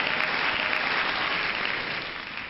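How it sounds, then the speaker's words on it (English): Audience applause, a dense, even wash of clapping that holds steady for a couple of seconds and then begins to fade slightly. "Let's give her all a big round of applause"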